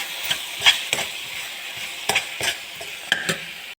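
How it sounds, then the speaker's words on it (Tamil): Tomatoes sauté in a pan over a steady, close sizzle, while a spatula scrapes and taps against the pan in irregular strokes. The sound cuts off abruptly at the end. "தக்காளி நல்லா வதக்கணும்."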